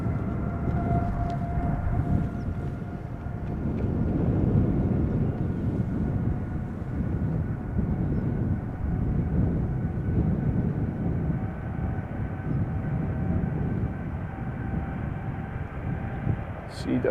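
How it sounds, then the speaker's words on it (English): A United Airlines Boeing 787-8 takes off at Schiphol, giving a steady, moderately distant jet rumble with faint tonal whines running throughout and a voice talking over it. "This is United Airlines Flight 947. It's a 7878 going to Washington DC."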